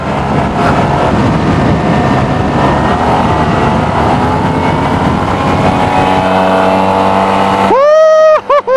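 A 2019 Yamaha T-MAX 560 scooter ridden hard on a race track, its loud, continuous engine roar rising and falling before it drops away to a few ringing whines at the end.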